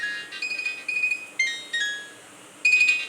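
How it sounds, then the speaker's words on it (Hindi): A mobile phone ringtone plays in a home kitchen, a bright electronic melody in repeated short bursts with pauses between phrases, fairly close and clear, with no talking over it. "फ़ोन बज रहा है, किसी का फ़ोन आ रहा है।"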